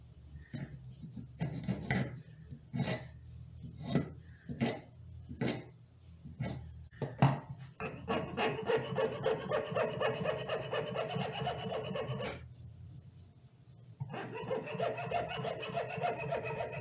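Rubbery plastic part from a Porsche 911 power window regulator being sanded by hand, first as a dozen separate rasping strokes, then as a fast continuous back-and-forth scrubbing that pauses briefly and resumes.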